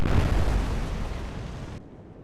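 Naval gunfire and bursting shells in the World War II naval game Atlantic Fleet, Royal Navy ships in a capital-ship engagement; a loud, sustained blast and rumble that fades, then cuts off abruptly.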